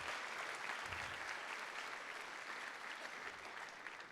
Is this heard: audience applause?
yes